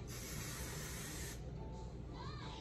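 Hairspray hisses from a can in one close, steady burst lasting just over a second, followed by quieter room noise.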